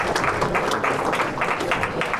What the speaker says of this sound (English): can I ask that we give the High Commissioner another big round of applause